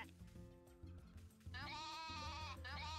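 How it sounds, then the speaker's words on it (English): Sheep bleating in the farming video game Story of Seasons: A Wonderful Life, a loud wavering bleat arriving midway over a low game backdrop and holding near and steady to the end. "Can I show you a sheep?"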